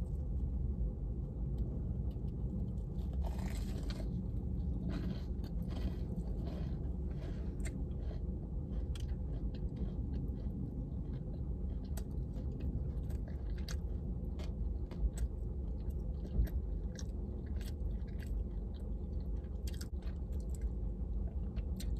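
Close, steady chewing and biting on a breaded Popeyes chicken sandwich with a cold bun, soft crunches and mouth sounds repeating throughout over a constant low background rumble, no talking.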